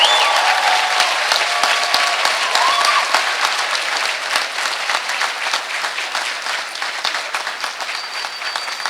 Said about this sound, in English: Let's give another round of applause to Dr. Neil Braxton Gibson